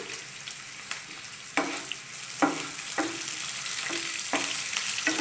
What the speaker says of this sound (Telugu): జీలకర్ర వేసుకుందాం